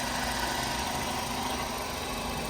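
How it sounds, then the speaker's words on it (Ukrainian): Renault Megane 3 hatchback with a 1.6 petrol engine idling while cold, a steady, even hum with no knocking, heard alone at close range. "Робота двигуна ідеальна, фазорегулятор на холодну не стукає, не грюкає."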